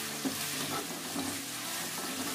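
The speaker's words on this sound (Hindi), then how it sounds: "लहसुन को फ्राई करेंगे।" Steady sizzling and crackling of garlic paste frying in a pan, with occasional soft stirring scrapes, continuous and fairly close.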